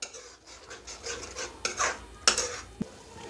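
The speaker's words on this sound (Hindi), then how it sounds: "तब तक भूनना है जब तक जो है ऑयल अलग ना हो जाए" Masala spices stir-fried in oil in a pan while cooking aloo parwal, heard as scraping and rasping of a spoon against the pan with soft sizzling and a few sharp metal clinks, close and fairly quiet.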